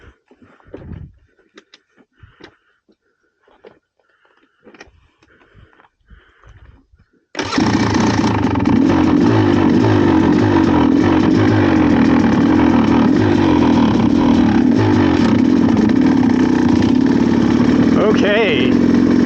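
After a few seconds of quiet shuffling, a KTM TSE300 dirt bike engine fires up and runs loud and close, a steady raspy idle that continues to the end.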